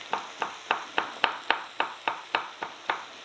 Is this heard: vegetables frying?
yes